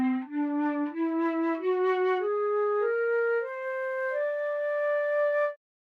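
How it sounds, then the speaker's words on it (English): A whole tone scale rises step by step in a Cakewalk trap beat, eleven or so clear synth notes climbing evenly, played alone and fairly softly before stopping. "Basically that is where the scale only goes up by whole notes"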